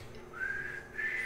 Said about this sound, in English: Oh, I could whistle.